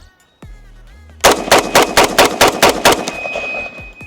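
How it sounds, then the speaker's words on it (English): New Century AP53 rifle fired at steel targets: about ten loud, sharp shots in a quick, fairly even string, each with a short ringing tail, after a brief quiet handling noise. "I want to see how it groups on steel"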